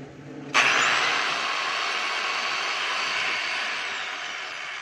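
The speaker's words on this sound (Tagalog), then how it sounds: "5899 na 10 kilos na jackhammer ng DeWalter" A DeWalt D25899 10 kg jackhammer switched on, its steady electric motor whine kicking in after a brief quiet start and running continuously and loudly without any chipping impacts.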